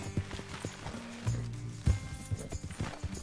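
Horse hooves clip-clopping at an easy pace in Red Dead Redemption 2, a steady close rhythm of hoofbeats with a soft snort or two.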